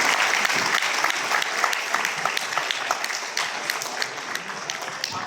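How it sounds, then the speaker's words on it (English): Applause fills a university hall at a book launch, many people clapping in a sustained, lively burst with individual sharp claps standing out, lasting about five seconds. "Join me in a round of applause"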